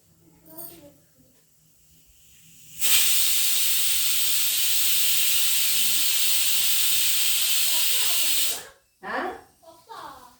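A pressure cooker with bottle gourd stew inside lets out a loud, steady hiss of steam for several seconds, starting abruptly and cutting off sharply, with people talking briefly before and after.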